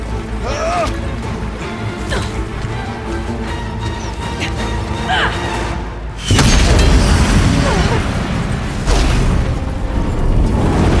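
A bomb detonates in Horizon Zero Dawn: The Frozen Wilds, a heavy low boom erupting midway and rumbling on through loud combat noise, with a voice shouting over the din.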